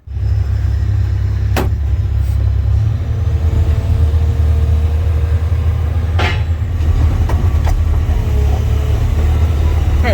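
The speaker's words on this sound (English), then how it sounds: "let's jump in this excavator and we'll get over there" A Komatsu excavator's engine runs with a loud, steady, close-up diesel rumble, broken by a couple of sharp metallic clanks.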